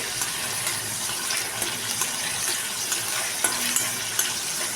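Onion and garlic paste fries in a pan, producing a close, continuous hiss and crackle mixed with watery bubbling and a few small stirring clicks, with no speech.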